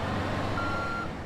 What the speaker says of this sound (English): let's do a good old bus driver move and back up out of a space.